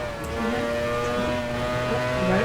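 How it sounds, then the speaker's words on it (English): Formula 1 car spinning its wheels in the racing video game F1 Challenge 99-02, a sustained high-pitched engine whine with shifting tones and tyre scrabble, fairly loud and steady throughout without speech. "Oh, that is a lot of wheel spin."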